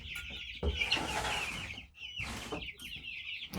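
Several small chickens, including young birds roughly 3 feet from jumping height and a few cream legbars, cluck and squawk close by in a steady rapid chatter, with a brief gap midway before the clucking resumes.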